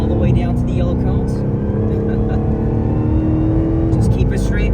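A Dodge Charger Hellcat Widebody on a track at full throttle, its engine droning loud and steady close up while an instructor talks over it.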